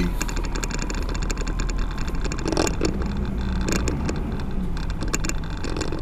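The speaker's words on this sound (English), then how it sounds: "it's just like even hard for this truck to move" The engine of a truck that has lost power drones as it strains to move, a steady, loud, low rumble with knocks and rattles, and no one speaking.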